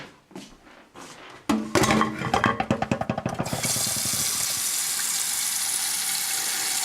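A few knocks and clinks against an old pressure cooker pot holding chaga, then water pours steadily into it with a loud, continuous rushing splash that lasts to the end.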